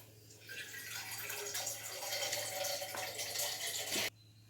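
Water splashes steadily for about four seconds as it is poured into a pressure cooker of lentils for drumstick and ridge gourd sambar, then stops abruptly, with a low hum underneath.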